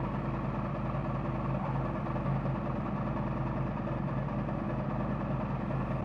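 A motorcycle engine idles steadily close by during a coolant change after the thermostat has opened, giving a continuous low rumble with no talk.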